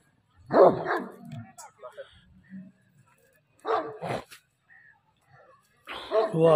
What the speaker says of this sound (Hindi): कुत्ते वेख के तो कुत्ता जनाब काबू नहीं आता, जोर मार दिया बड़ा।